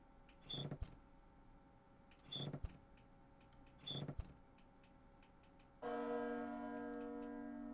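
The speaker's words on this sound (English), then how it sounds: "The bell." A bell in a video game strikes three times at even intervals, each ring bright and decaying, before a sustained mechanical hum takes over at the end; no one speaks.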